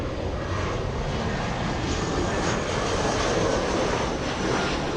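A Boeing 747 jet on a runway at LAX, a steady, loud, broad engine roar that holds evenly throughout with no voices.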